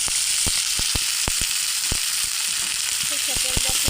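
Onion fries in mustard oil with a bright, constant sizzle, punctuated by sharp ticks and clinks of a utensil against the pan, growing busier toward the end.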